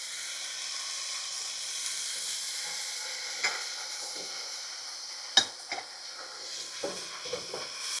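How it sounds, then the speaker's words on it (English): Onions, mushrooms, garlic and thyme sizzle in a pan, a soft continuous hiss broken by a sharp clank and a few stirring scrapes toward the end, no one speaking. "I'm going to go ahead and toss in the mushrooms and the garlic"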